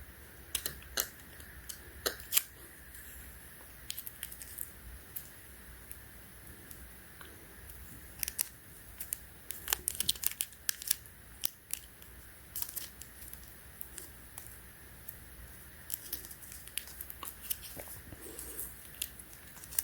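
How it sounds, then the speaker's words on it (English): Scotch tape is pulled and torn off the roll while reworking a hoodie drawstring, giving scattered sharp crackles and rips against a quiet room hum, with no talking. "So I'm going to tape it with the Scotch tape."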